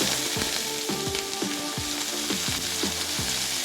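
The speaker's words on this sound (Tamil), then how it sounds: "நல்லா வெடிஞ்சு வந்ததுக்கப்புறம் கருவேப்பிலை ஒரு கொத்து, ஒரு வெங்காயம் இந்த மாதிரி நறுக்கிட்டு சேர்த்துக்கலாம்" Onion, curry leaves, mustard seeds, urad dal and cumin fry in hot oil, giving a loud, dense, continuous sizzle with a stirring spoon scraping the pan in a steady rhythm close by, and no voices.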